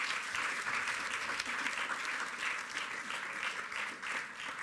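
Audience applause at a French literary prize ceremony announcing a public award, steady dense clapping throughout, fairly close and loud, with no talking over it.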